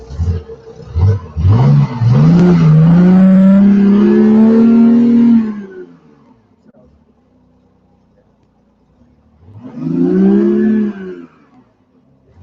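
A Lamborghini Huracan engine fires up with a loud rising bark, holds a strong rev for a few seconds, then drops to a quiet idle before a second shorter rev. It is heard close and loud.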